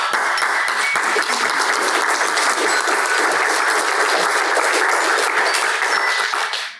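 Audience clapping after a startup pitch event, loud and continuous applause from a room full of people, even and sustained before tapering off at the very end.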